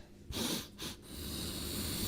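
Two quick nasal sniffs close to the microphone, followed by a longer drawn-in breath through the nose.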